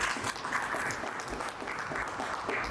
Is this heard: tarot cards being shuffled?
no